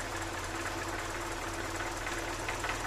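A Mercedes-Benz M102 engine idles steadily just after a cold start, a continuous even drone with a faint mechanical ticking, close and unbroken, no voices.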